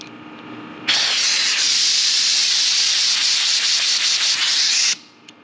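Compressed air rushes in a loud, steady hiss for about four seconds through an open-flow LockNFlate air chuck fitted directly on an airline, starting and stopping abruptly.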